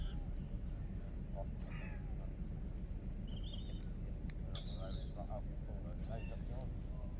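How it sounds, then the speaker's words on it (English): A kitten only a few weeks old gives a few faint, high meows over a steady low rumble of wind and water on a river bank, with some distant bird calls. "Got a little kitten just down here."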